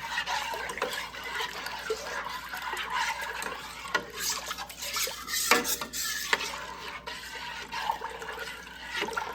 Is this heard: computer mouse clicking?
no